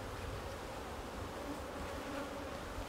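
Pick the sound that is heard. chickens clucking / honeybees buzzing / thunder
honeybees buzzing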